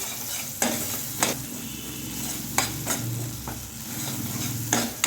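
A spoon stirring spinach curry in a pan just after spice paste made with gram flour, peanuts and sesame is added, a low simmering sizzle broken by several distinct scraping clinks at irregular intervals, close by, no voices.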